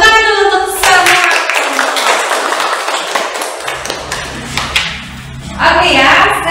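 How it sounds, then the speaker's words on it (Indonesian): Classroom applause from a group of students, a dense burst of clapping that fills most of the clip and fades near the end as a voice returns. "Tepuk tangan dulu untuk semua."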